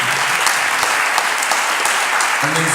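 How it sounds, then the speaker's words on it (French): Audience applause for Willy Suel at a French event, a steady dense clapping from a crowd lasting throughout, loud and close with no pauses. "Je vous demande d'applaudir très très fort encore pour Willy Suel."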